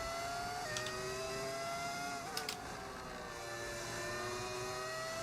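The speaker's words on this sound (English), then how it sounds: "You can literally hear my engine, like, clunking out." Lamborghini F1 car engine in the video game F1 25, a high steady whine holding pitch with a couple of short stepped shifts and brief bursts, heard quietly under game ambience.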